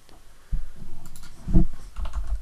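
Someone types a web address on a computer keyboard, giving a short run of close, crisp key clicks and taps in an uneven rhythm.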